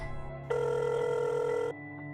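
A telephone gives a single sustained electronic ring lasting just over a second, loud and close, against a quiet background hum with no speech.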